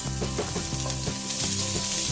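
Garlic fried over high flame hisses and sizzles steadily in the pan while being stirred briskly, scraping strokes repeating under a constant loud crackle.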